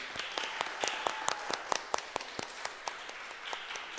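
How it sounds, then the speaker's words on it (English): A small church congregation at a parish Mass claps for two first communion recipients, sparse, distinct hand claps sounding faintly in a reverberant room. "let us give them a round of applause as they have received the Apostolic Communion today"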